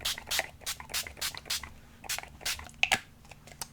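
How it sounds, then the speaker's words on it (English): A spray bottle spritzing mist onto a stencilled background for a grungy craft piece, about ten short, evenly spaced hissing bursts, close and fairly loud, with no talking. "We're just going to spritz"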